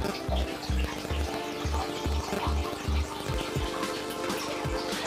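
Water splashes and gurgles continuously from a small cascade filter on an aquarium tank, with a rhythmic low bubbling pulse beneath the running trickle.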